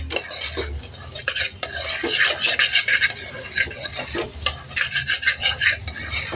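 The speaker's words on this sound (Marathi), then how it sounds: "मसाला छान परततो आहे" Ginger-garlic masala is stirred and sautéed in oil in a pan for a field bean curry, with repeated scraping and rubbing strokes of a spatula over a faint sizzle.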